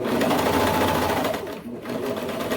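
A sewing machine stitches fabric for a dress, its rapid steady needle chatter close and continuous, with a brief dip in the middle before resuming at the same pace.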